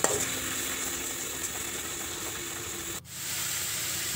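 Water poured into frying spice paste for a rohu fish curry, setting off a steady hiss and sizzle; partway through the sound cuts out sharply, then the sizzling resumes.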